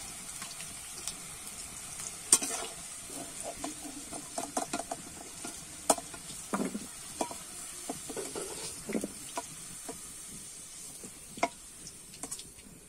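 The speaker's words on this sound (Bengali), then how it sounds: "ওই তেলেতেই কিন্তু আলুগুলো ভেজে নেব।" Potatoes frying in oil in a pan for a fish-head soybean curry, a steady faint sizzle with scattered sharp stirring clicks and scrapes throughout, no talking.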